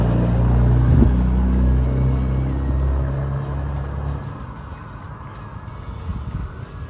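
Sparse city road traffic near a bus station in Laos: a vehicle engine rumbles close by, then recedes, leaving a quieter low hum of distant traffic.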